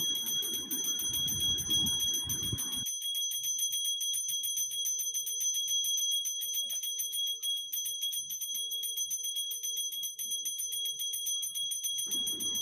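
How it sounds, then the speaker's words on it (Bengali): A heavy brass hand bell is rung steadily during a puja aarti, giving a continuous bright, ringing tone that sustains throughout at moderate loudness, with a brief burst of low background noise at the start and end. "ও কি সুন্দর ওই ঘন্টা নাড়িয়ে যায় আমি পারি না ঘন্টাটা ভারী আছে"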